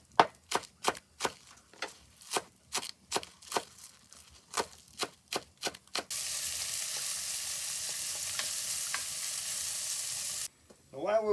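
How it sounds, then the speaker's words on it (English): A run of rhythmic knocks and scrapes gives way to a loud, even sizzle of onions frying and browning in a pan, close up, before a short clatter at the end; nobody speaks. "While we're waiting on this to brown, the onion"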